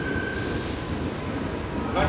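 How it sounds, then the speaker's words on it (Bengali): Steady rumbling roar of an AC EMU local train running between Sealdah and Bongaon, heard from on board as a continuous, even drone with a faint tonal whine near the start and a brief swell at the end. "দেখো ট্রেন কিন্তু চলেছে বনগাঁর উদ্দেশ্যে।"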